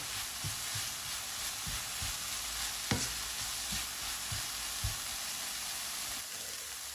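Leeks and red onion sauté steadily in a pan with a constant sizzle, while a spoon or spatula stirs them in several soft scraping strokes and one sharper knock near the middle.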